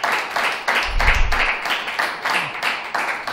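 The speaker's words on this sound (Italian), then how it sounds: "Facciamo un grande applauso" Audience applause in a television sports talk show studio: a run of steady, rhythmic clapping bursts that holds at an even level for a few seconds, with a brief low thump partway through.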